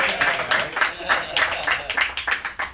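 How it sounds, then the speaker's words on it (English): An audience claps for a band at a live music show. The sound comes in a dense, pulsing wash of hand claps that swells and dips in quick repeated bursts, close and fairly loud. "Everybody, give them a round of applause."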